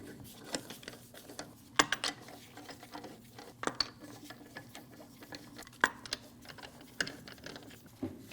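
A ratchet wrench snugs the wheel lug nuts on a Honda CR-V during a rear brake job, giving quick irregular clicking and metallic ticks, close and moderately quiet with no talk.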